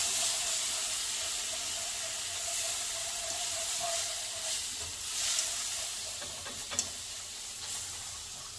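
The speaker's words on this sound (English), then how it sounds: "Add the stock." Stock hits a hot pan with a continuous sizzling hiss and steam, followed by stirring with faint scrapes and a small clink, all steady and close-miked.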